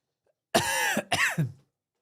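A man on a live football watchalong stream coughs and clears his dry throat, two harsh, close bursts with no other sound around them.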